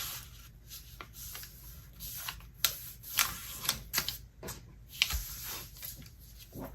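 A sheet of paper being folded into a paper airplane, turned over and creased with crisp rustles and sharp pressing snaps at irregular intervals, close up and without speech.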